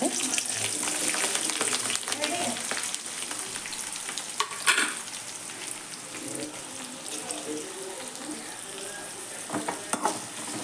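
Chopped green chilies frying in oil, a close, steady sizzle and crackle with a few stirring scrapes and clinks across the whole stretch.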